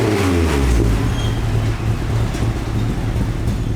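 A 1991 Honda Civic EF hatchback with a new, loud exhaust roars close by, a heavy low rumble that swells with a rev, then settles into a throbbing idle.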